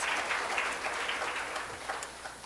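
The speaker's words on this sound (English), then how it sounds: "and yes, Callie, please give them a round of applause." Faint, steady applause from an audience at a community engagement talk continues evenly for a couple of seconds, distant and soft with scattered individual claps.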